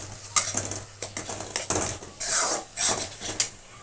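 Spoon or spatula clattering against a metal pan as turmeric, chilli, coriander and cumin powders fry for a cabbage and potato curry, with a run of irregular close scrapes and clinks and no talking.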